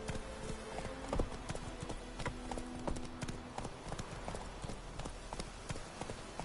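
Roach, Geralt's horse in The Witcher 3, gallops in a quick, steady run of rhythmic hoof clip-clops, moderately near and continuous throughout.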